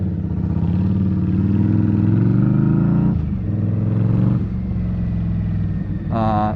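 A V-twin cruiser motorcycle rides along with a steady, loud engine rumble that dips and picks up again, with wind buffeting and a short rattling burst near the end.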